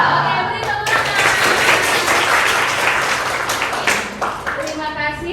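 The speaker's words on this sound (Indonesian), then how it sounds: "Oke, beri tepuk tangan." A school history class clapping hands together, a lively burst of applause with children's voices and a teacher speaking over the start and end.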